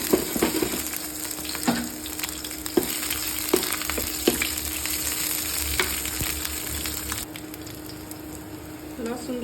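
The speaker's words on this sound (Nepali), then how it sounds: "मसलाहरू तातिसकेपछि चाहिँ यो लसुन र अदुवा पनि फ्राई गर्दैछु।" Garlic and ginger fry with spices in hot oil, making a steady close sizzle that carries throughout, broken by sharp scraping and clacking from the stirring spoon, with no voice heard.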